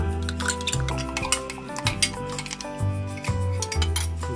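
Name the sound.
stirring ingredients for butter fried chicken in a bowl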